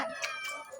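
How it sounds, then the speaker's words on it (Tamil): A pet cat in a home garden lets out a short, clear meow, heard alone and fairly close. "அப்படியே பின்னாடி எங்கள் பூனையை பாருங்க"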